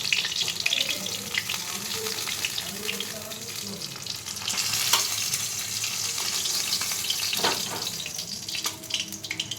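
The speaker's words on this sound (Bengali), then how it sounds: "আমি কড়াইতে তেল দিয়ে দিয়েছি, আর মাছের মাথাটা ভেজে ভালো করে ভেজে আমি তুলে নেব।" Hilsa fish head frying in hot oil in a wok gives a steady, close sizzle that runs the whole time, with occasional soft clinks and stirring scrapes.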